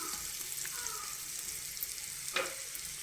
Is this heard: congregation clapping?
no